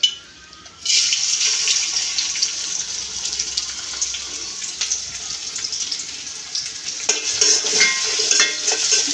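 Crushed onion, green chili and garlic pounded with a hammer hit hot oil for a chapila fish curry, setting off a steady, bright sizzle close up that carries on continuously with occasional stirring.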